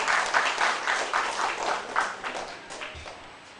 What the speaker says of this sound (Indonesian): Tepuk tangan dulu dong, ya biar semangat.